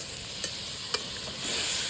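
Chicken manchurian being stirred in a pan, a steady soft sizzle running throughout with a couple of sharp scraping clinks of the utensil against the pan.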